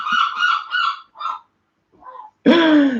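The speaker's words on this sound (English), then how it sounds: "whilst Christopher is off feeding all of the local birds" Local birds honking while being fed: a quick series of nasal honks, a short pause, then one louder, harsher honk close by.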